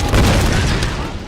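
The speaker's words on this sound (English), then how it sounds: "I do love that the dynamite has like no explosion range really" A stick of dynamite blows up in the Tomb Raider video game, giving one heavy, booming blast with a sustained broadband roar that fills the whole moment at close range.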